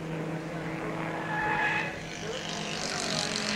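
Production touring cars race at Warwick Farm Raceway, Sydney, in 1970, their engines droning steadily in a continuous broad roar that swells as a car draws near, with a brief tyre squeal partway through.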